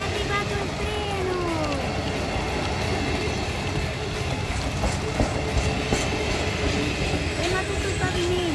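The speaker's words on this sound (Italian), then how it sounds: "È arrivato il treno!" A train arrives at a station: loud rolling wheels and clickety-clack on the rails, with several brief squeals of wheels on track. The rumble is steady and close throughout, with voices talking over it.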